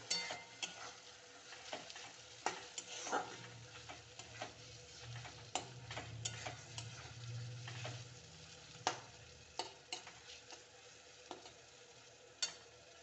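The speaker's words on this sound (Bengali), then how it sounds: "এর মধ্যে আমি আদা আর রসুন কুচি দিয়ে দেব। একটু ভালো করে নেড়ে নেব।" Chopped ginger and garlic fry in a pan with a soft steady sizzle while a spoon stirs them, tapping and scraping the pan in quick, irregular clicks, close but fairly quiet.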